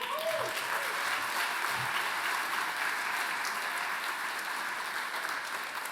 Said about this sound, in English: So give yourselves a hand.